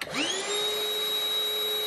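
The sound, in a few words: cordless vacuum cleaner running on battery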